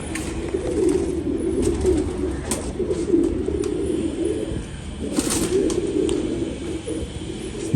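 Blue pigeons cooing close by in repeated low, rolling calls, with a faint sound of wings and light background noise throughout.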